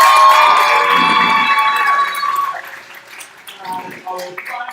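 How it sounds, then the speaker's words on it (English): Audience at a guild debate night bursts into loud cheering and applause, then the crowd noise fades and a voice speaks over it. "one more round of applause for all of our members"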